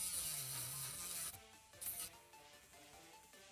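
An angle grinder cuts away leftover plastic on a Lenovo IdeaPad 330-17ICH laptop with a high whining rasp, then drops to rougher, intermittent scraping bursts as the disc meets the plastic.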